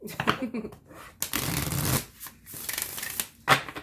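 Oracle cards are shuffled in several quick, papery bursts of riffling and rubbing, close by, with brief pauses between.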